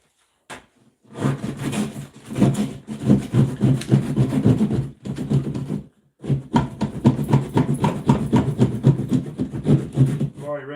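A hand saw cutting a hole in a wall for a three-gang electrical box, rapid rasping back-and-forth strokes in two long bursts separated by a brief pause, close and fairly loud.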